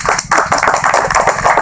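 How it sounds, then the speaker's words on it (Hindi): A congregation at a live devotional gathering claps in a loud, close, rhythmic beat, with even repeated claps keeping time for a couple of seconds. "ताली बजा"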